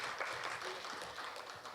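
An audience at a public hearing for an urban regeneration plan on a Korea University campus applauds, producing a brief, fairly quiet, dense patter of clapping.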